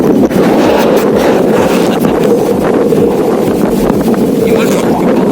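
Strong wind rushes and buffets against the microphone on a Carpathian mountain hike toward Drahobrat after rain, a loud, steady roar filling the whole stretch with no clear talk over it.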